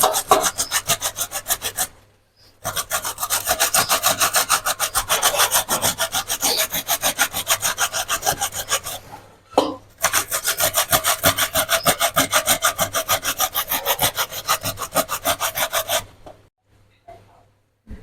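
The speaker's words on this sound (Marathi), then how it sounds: "हे पहा, असं आपलं गाजर किसून होतं" Carrots are grated by hand on a grater for gajar halwa, with fast, even rasping strokes that run in long bursts broken by a few short pauses, close and clear.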